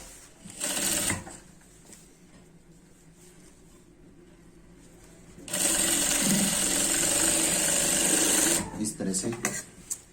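A sewing machine stitches a pant waistband in two loud whirring runs, a brief one early and a longer steady stretch of about three seconds later, with someone talking in the quieter gap between them.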